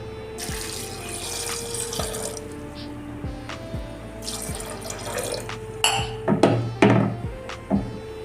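Filtered water runs from a tap into a cooking pot for rajma, a steady splashing pour broken by several sharp metallic knocks and clinks of utensils toward the end.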